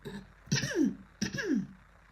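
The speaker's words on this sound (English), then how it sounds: "Whoa, cough." Two throaty coughs about a second apart, close and fairly loud, each starting with a sharp burst and trailing off into a rough, falling rasp, with quiet room tone around them.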